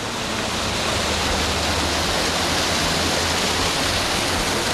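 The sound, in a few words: waterfall falling from a great height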